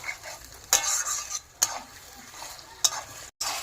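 Mutton being stirred and fried with spices in a pan, a steady sizzle with a few sharp spoon scrapes and clanks against the pot, close and moderately loud with no talk.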